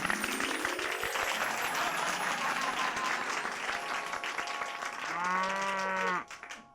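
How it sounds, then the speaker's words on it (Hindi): Crowd applause at a zoo function, steady dense clapping throughout with a brief low mooing-like animal call near the end before the clapping cuts off. "तालियां तालियां तालियां।"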